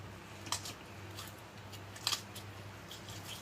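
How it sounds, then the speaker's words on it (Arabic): A knife cuts a bell pepper into large chunks on a kitchen board, two crisp separate slicing snaps close by over faint room hum, with no speech. "بقطع الفلفل بتاعي"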